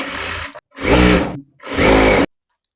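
Electric sewing machine stitching a long designer blouse: two rapid bursts of whirring, chattering needle strokes, each lasting under a second, with short silences before, between and after.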